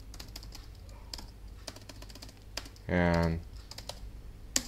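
Fingers tap a computer keyboard in quick, light, irregular clicks, close up and fairly quiet, while someone speaks briefly in between.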